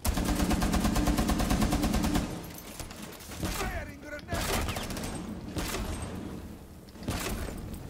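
Sustained machine gun fire in Rainbow Six Siege from the operator Tachanka, a loud rapid rattle that drives hard for about two seconds, then broken bursts and impacts mixed with game noise.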